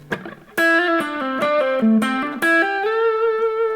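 A quick run of distorted electric guitar notes, bright and punchy, moving through a fast melodic phrase before settling on a final sustained note.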